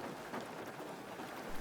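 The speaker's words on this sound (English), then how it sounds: "Birds kept singing through the downpour" Heavy rain pours down outdoors in a steady, broadband wash of drops, moderately loud and unbroken throughout the short stretch, with no voices.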